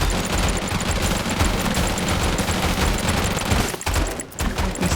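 Dense, continuous gunfire from a minigun, rocket launcher and grenade launcher in the video game Deadly Days Roadtrip, a relentless rapid rattle layered with booms, briefly dipping near the end before resuming.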